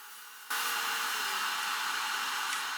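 A sliding table saw cross-cuts a melamine board against a stop block on the cross-cut fence, its steady whining roar starting abruptly after a quieter hum and holding level, close and loud.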